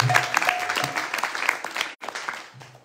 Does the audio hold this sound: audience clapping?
yes